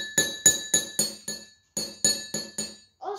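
Glass xylophone bars struck one after another at the lowest pitch, about ten bright ringing clinks in a steady rhythm with a short pause midway, each note decaying quickly, close and clear.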